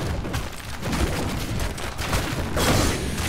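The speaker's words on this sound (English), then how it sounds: "Withering Fire just works so well to stop these mercenaries." Sylvanas's Withering Fire ability in Heroes of the Storm: a dense, continuous crackling barrage of rapid shots, loud and close, running unbroken for a few seconds.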